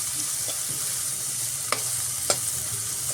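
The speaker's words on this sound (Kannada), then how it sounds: "ಈರುಳ್ಳಿ ಬೆಳ್ಳುಳ್ಳಿ ಫ್ರೈ ಆಗಿದೆ." Onion and crushed garlic frying in oil for paneer masala, a steady close crackling sizzle with a couple of brief sharp clicks of stirring.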